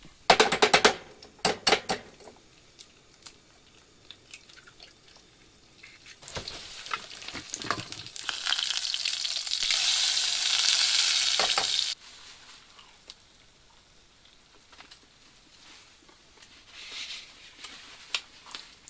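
Bacon sizzles in a pan over a wilderness campsite fire, a soft crackling frying hiss that swells into a louder, denser sizzle midway, with scattered clinks and pops at the start and end.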